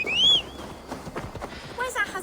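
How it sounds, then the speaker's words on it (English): Horse hooves in Assassin's Creed Valhalla, a soft clip-clop plodding at mid distance under a whistling chime and game voices, with someone talking over it. "Horse."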